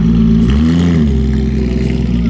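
A Corvette C6 Grand Sport or Z06 engine idles loud and close, a deep throbbing rumble with a brief blip of revs partway through, no talking over it.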